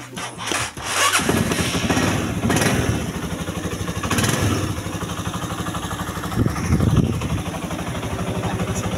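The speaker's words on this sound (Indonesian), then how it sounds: "Oke, motornya udah jadi, udah hidup." Honda CB150R motorcycle, just repaired after a corroded fuel pump wire, starts up and settles into a steady close idle, with a few revs rising and falling over the throbbing engine note.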